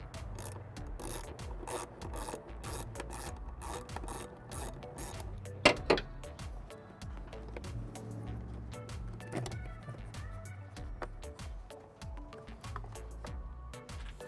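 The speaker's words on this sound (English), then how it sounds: "use a 5/16 socket to loosen that up and just get the hose off" A 5/16 socket turns to loosen a hose clamp on the airbox of a 2008-2014 Ford F150, giving a run of quick ratcheting clicks and scraping mechanical noise at close range, with one sharper knock midway.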